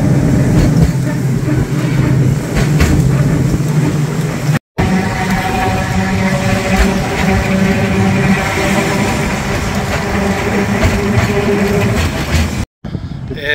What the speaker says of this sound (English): On the tram to Foz.